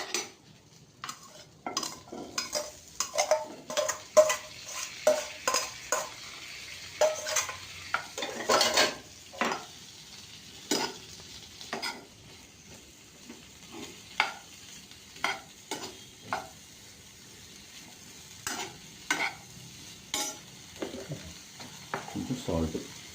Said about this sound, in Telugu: ఇప్పుడు వేసేద్దాం వెజిటబుల్స్.